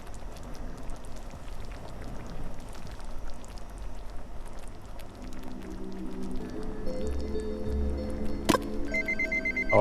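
A phone-style ringing or paging tone sounds, set off by a stream's mute mic button during co-op game play. It enters in the second half as a steady electronic ring over a background of soft patter.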